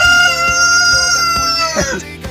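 A rooster crows nearby with a long, bright harmonic call, set against a steady layer of other sounds.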